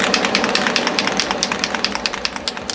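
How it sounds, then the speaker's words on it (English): A spray booth fan runs with a steady, dense broadband roar and a fast rhythmic flutter, loud and continuous with no voices. "So I'm going to kick up my fan in the spray booth"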